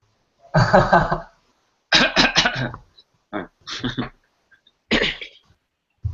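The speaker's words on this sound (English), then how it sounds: "Sorry, I'm gonna cough" Several harsh coughs in separate bursts, a long one first, then a rapid cluster, followed by a few shorter coughs, close and loud.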